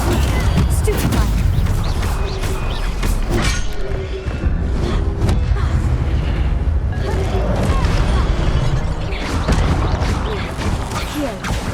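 Spell combat in Hogwarts Legacy, with a Stupefy stun spell cast amid a dense run of loud blasts, thuds and crashing impacts that repeat throughout, under shouted incantations.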